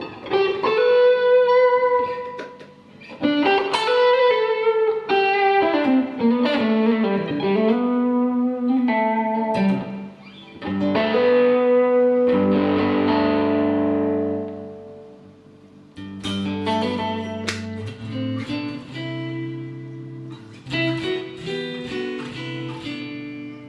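An electric guitar through a Line 6 Spider V amp with a delay effect plays melodic phrases and bends with echoing repeats trailing after notes, followed by chords and picked lines, moderately loud, no speech.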